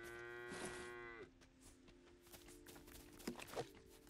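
A cow in the video game Lego Fortnite gives one long, close moo, followed by soft clopping footsteps and a few faint thuds.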